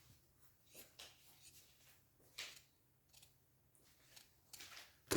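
Scissors cut through jute fabric with a series of soft, crisp snips and rasps, spaced irregularly and heard up close in a quiet room.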